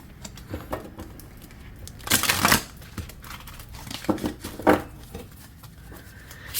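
A tarot deck with iridescent edges being shuffled by hand, giving soft papery riffles and crisp card bursts in irregular clusters, close and fairly quiet with no speech.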